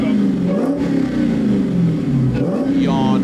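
A Ford Mustang engine revs loudly and steadily, the pitch rising and falling through a couple of throttle blips, with voices faintly audible underneath.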